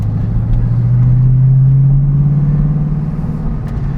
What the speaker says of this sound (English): Down to second gear here, kind of go through this corner a little fast